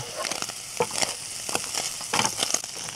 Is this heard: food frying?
yes